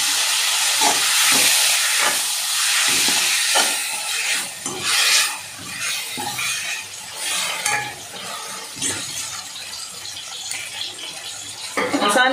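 Tomatoes and masala sizzle and fry steadily in a pan for a tomato-based okra gravy, with intermittent stirring scrapes over a constant hiss.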